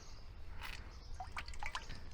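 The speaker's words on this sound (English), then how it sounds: "we're going to wring as much of this out as we can" Water from a damp cleaning rag being wrung out by hand, with soft drips and trickles falling back into a container, fairly quiet and close, no voices.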